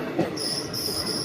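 The Santragachi–Digha fast passenger train pulls out of Uluberia station, with a steady rumble of the carriages and a high, sustained wheel squeal along the rails.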